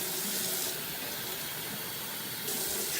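A kitchen faucet runs into the sink in a steady, close rush of splashing water that eases slightly in the middle and then swells again, with no one speaking.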